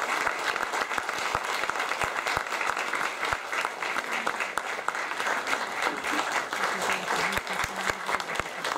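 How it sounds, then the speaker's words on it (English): A theatre audience applauds the cast for close to nine seconds, a dense, steady wash of many hands clapping with no break. "Please have a round of applause."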